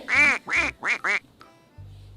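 A duck quacks four times in quick succession, close and clear, followed by a brief pause and quiet background.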